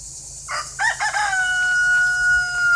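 Rooster crowing nearby: a single loud drawn-out cock-a-doodle-doo that rises in short bursts and then holds a long wavering high note against quiet background.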